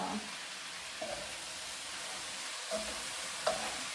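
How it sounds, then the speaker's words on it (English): A celery and potato dish being stirred in a pan, a soft low sizzle with a few light scrapes and taps of a utensil, quiet and close, no talking. "mix or stir the dish"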